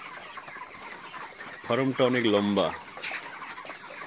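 About 3,500 chickens in a long poultry farm shed, a busy bed of clucking and murmuring with one louder nearby call, while someone speaks briefly.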